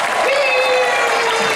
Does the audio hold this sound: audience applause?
yes